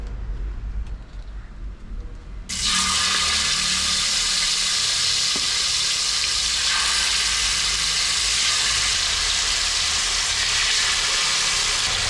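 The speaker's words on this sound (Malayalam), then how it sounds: "അപ്പം നമ്മുടെ ചിക്കൻ നമ്മുടെ എണ്ണയ്ക്കകത്തോട്ട് ഇടുകയാണ് കേട്ടോ." Chicken leg pieces drop into hot oil, and after a quiet start a loud, dense sizzle bursts up and holds steady, close and unbroken until the end.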